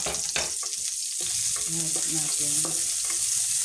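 Garlic, onion and white onion sizzle and fry in a hot pan for pork with pineapple, a steady bright hiss with occasional stirring scrapes, while a voice speaks briefly over it.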